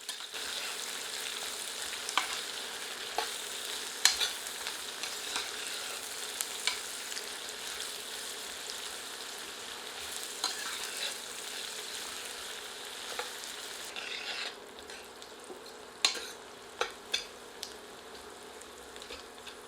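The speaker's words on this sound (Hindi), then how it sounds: "इसे मध्यम आंच पर तब तक भूनते हैं जब तक कि प्याज सुनहरी नहीं हो जाती।" Onions fry in oil over a medium flame, giving a steady, fairly quiet sizzle with scattered crackles and pops that thin out in the last few seconds.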